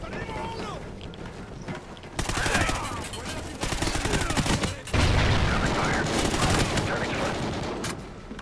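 Heavy covering gunfire in the video game Call of Duty: Ghosts, loud continuous bursts that swell after a brief lull, with rapid overlapping shots dominating the scene.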